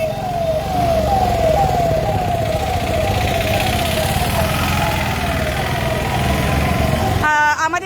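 An ambulance siren wails in a loud, steady, repeating cycle over engine and road noise. The ambulance is carrying an accident victim's body near the Don Bosco More area of Sevoke Road.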